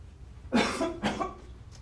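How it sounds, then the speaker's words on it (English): Two short, close coughs in quick succession at a police media briefing, the first louder, in a quiet room. "Sorry, I didn't want to cough in the microphones."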